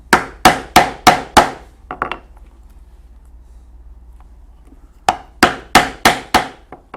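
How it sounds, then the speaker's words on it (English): A punch hammered through a leather breast-collar strap: five sharp, evenly spaced loud strikes, a couple of lighter taps, a quiet pause, then another run of five strikes. "we will punch 5 holes in the other end about 3/4 of an inch apart"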